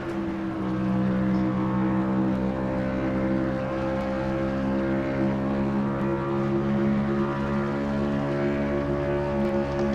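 Pontiac stock car engine in a racing video game screaming at over 9,000 RPM at Dover, a steady loud droning whine with stacked harmonics, held constant throughout with no talk.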